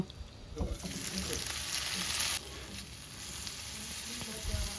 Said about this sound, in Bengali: এখন পেঁয়াজ টমেটো কাঁচা লঙ্কা রসুন সব কিছু ওই দেড় দু মিনিটের জন্য একটুখানি ভাজা ভাজা করে নেব